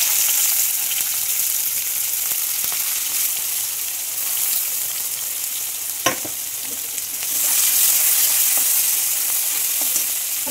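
Sliced onions sizzle steadily in hot oil with bay leaf and dried red chili, a dense continuous frying hiss close by, with a brief clatter of stirring midway and a louder surge of sizzle near the end.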